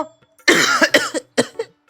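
A person close by coughs hard in a quick run of harsh bursts, then two shorter coughs after a brief pause, with quiet between them.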